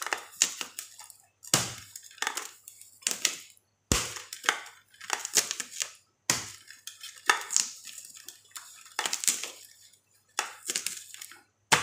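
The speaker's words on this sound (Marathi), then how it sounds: "आणि डाळीसाठी थोडासा लसूण चेचून घ्यायचा आहे." Garlic being crushed for dal in a home kitchen: repeated bursts of pounding and grinding in clusters separated by brief pauses, close and fairly loud, with no talk.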